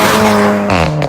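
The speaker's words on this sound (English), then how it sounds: "this one I've got here does have the titanium sports exhaust. And if you listen closely, it farts tremendously in between gear changes" A Volkswagen Golf R with a titanium sports exhaust revs loud and close, its engine note dropping sharply at a gear change before a brief crackling pop.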